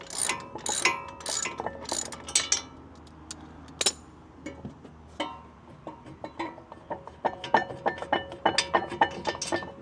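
Wrench loosening the top brake caliper bolt on a Ford Mustang GT front brake: close, rapid metallic ratchet clicks and clinks in clustered bursts, with a few sharper taps between them.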